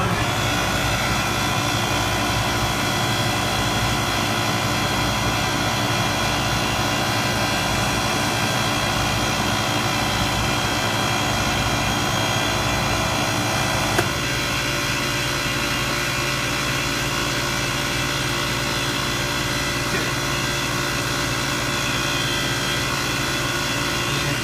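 A condensing unit runs through a refrigerant pump-down test with the liquid-line king valve shut, giving a loud, steady mechanical drone with a constant hum. Partway through, the tone abruptly shifts and drops lower, and no voices are heard.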